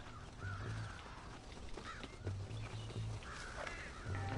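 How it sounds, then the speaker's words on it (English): Crows caw faintly in the Western video game Red Dead Redemption, several low raspy calls spaced through the clip over outdoor game ambience, without speech. "the crows that are flying"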